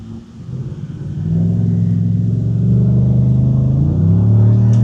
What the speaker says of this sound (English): Listen to that truck.